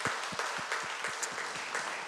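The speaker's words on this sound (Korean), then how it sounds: "우리 하나님께 한번 영광의 박수를 힘차게 올려드립니다" A church congregation at a Friday prayer service claps, a fairly faint, roomy wash of applause with a few accented beats running steadily through it.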